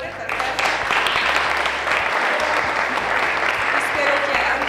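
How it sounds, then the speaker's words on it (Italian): An audience claps steadily at a film trailer presentation in Lucca, a full, continuous wash of hands with faint low murmuring underneath. "grazie ad Andrea Ganzi, un applauso anche a lui per favore"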